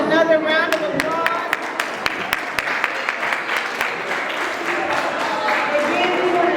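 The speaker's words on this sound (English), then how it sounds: "let's give our students another round of applause." Graduation ceremony audience applauding students, a dense steady wash of clapping with sharp individual claps standing out, moderately loud and continuous throughout, with faint voices mixed in.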